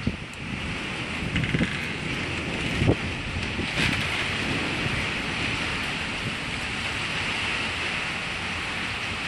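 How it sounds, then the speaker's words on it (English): Strong wind from a tornadic thunderstorm in Oklahoma City roars steadily around a carport, a loud, broad, unbroken rush with brief gusty bumps and no voices. "Wind is starting to kick up."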